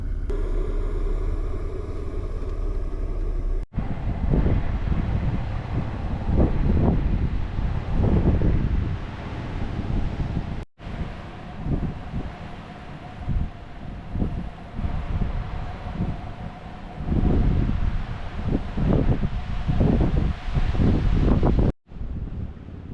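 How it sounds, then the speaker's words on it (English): Strong wind roars and buffets the microphone outdoors in heavy gusts, with a low rumble underneath and brief breaks in the sound. "it is really windy out there, just frigid"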